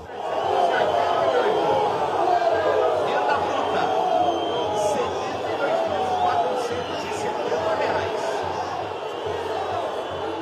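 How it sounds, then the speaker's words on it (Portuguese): Guarani football supporters in a stadium crowd murmur and jeer in sustained disapproval, a dense, steady roar of voices with scattered shouts rising and falling throughout. "E quem não gostou muito foi a torcida alviverde."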